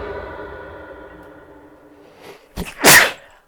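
A single loud, sharp human sneeze close to the microphone during a card game session, coming after a steady, fading hum and a brief breathy intake.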